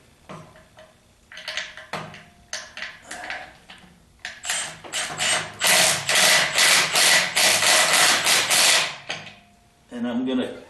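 Tightening the bolts that mount a transmission to the chassis of a 1976 Corvette restomod, with clicking ratchet strokes that start sparse and speed into a sustained run of rapid ratcheting, close and fairly loud.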